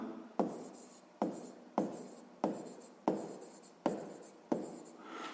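A pen writing out a 6th-grade math solution, seven evenly spaced, close scratchy strokes, each starting sharply and then fading, with no talking.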